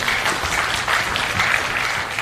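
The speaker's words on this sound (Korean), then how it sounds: "다시 한번 큰 박수 좀 보내주시죠." Audience at a National Assembly workshop lecture gives a burst of steady, fairly loud applause, dense clapping throughout a short stretch with no speech over it.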